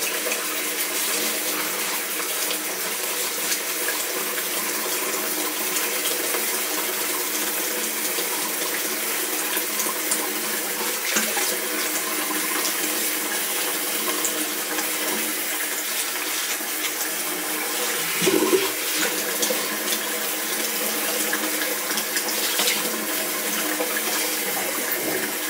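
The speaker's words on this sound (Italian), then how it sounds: "Acquetta calda, la facciamo uscire un pochettino." Hot water runs steadily from a bathroom tap for a long stretch, an even close-up rushing stream with a slight splash change partway through, and no voices.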